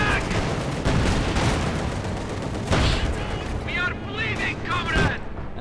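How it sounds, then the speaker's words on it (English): German artillery fire in the real-time strategy game Company of Heroes 2 booms and rumbles in repeated heavy blasts amid battle noise, with someone talking over it. "the response obviously came here from the German artillery"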